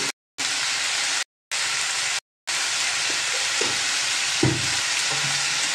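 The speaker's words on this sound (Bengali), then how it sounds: "ভালো করে নাড়াচাড়া করে ঢাকা দিয়ে দেবো।" Food with green and dried chillies, turmeric and salt frying in a pan, giving a steady loud sizzle broken by short silent gaps, with a few soft scrapes of stirring near the end.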